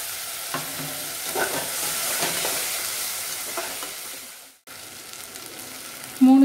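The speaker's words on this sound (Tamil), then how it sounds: "இஞ்சி பூண்டு பேஸ்ட் 2 spoon அது கூட சேர்த்து நல்லா வதக்கிடலாம்." Curry leaves and ginger garlic paste sautéing in a pan for mutton gravy, a continuous sizzle with scraping stir strokes, briefly cutting out near the end before a short tonal blip.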